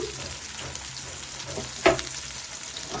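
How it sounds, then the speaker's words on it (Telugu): Fish fry in plenty of hot oil in a pan for a village-style fish fry, giving a steady close sizzle with one brief louder clatter midway; no one speaks. "ఫిష్లు చూసారా ఫ్రై అవుతున్నాయి"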